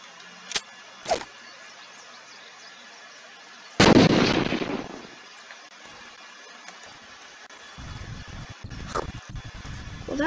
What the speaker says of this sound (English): Perfectly placed grenade.